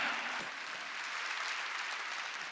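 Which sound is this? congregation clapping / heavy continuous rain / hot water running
congregation clapping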